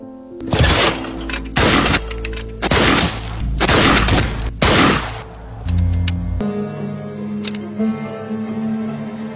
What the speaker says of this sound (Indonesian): Terlihat skill menembak Kapil yang lebih baik